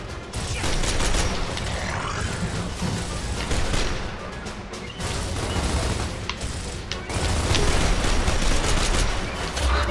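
Machine gun fire in the shooter game Gears of War rattles continuously and loudly for about ten seconds, a dense barrage of rapid shots blended with mechanical clatter and explosive crashes, with no pauses.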